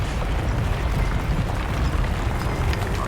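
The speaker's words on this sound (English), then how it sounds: "Let's go explode some Gatlock." Dragon Age: Inquisition explosion set off with primers, a sustained deep rumbling roar that stays loud and steady for a few seconds, heavy low-end boom with no talking.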